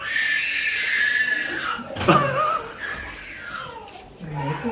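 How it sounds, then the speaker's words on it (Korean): A child screams during a church service, a long high cry followed by whimpers and yelps, with the preacher's voice continuing underneath. "저 비명소리가"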